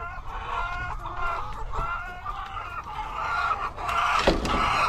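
Flock of chickens clucking steadily up close on a small farm, with a rooster crow breaking through near the end.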